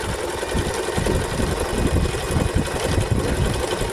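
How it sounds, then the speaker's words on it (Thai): Elna 2110 sewing machine stitching a dense zigzag, a steady rapid mechanical whir and clatter running continuously at close range without speech. "เวลาเย็บ ผมจะปรับซิกแซกที่มันถี่ก่อนนะครับ"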